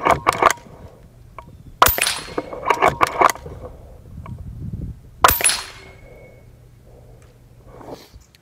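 Target shooting without a rest: three sharp, loud gunshots spaced a few seconds apart, each standing out against quiet surroundings, with faint clicks and handling noise in between.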